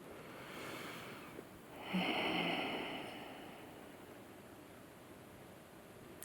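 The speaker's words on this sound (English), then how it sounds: "take a slow, deep breath of integration" One slow, deep breath, a soft airy inhale that swells in the middle and then fades gently, heard up close and faint against quiet background hiss, with no talking.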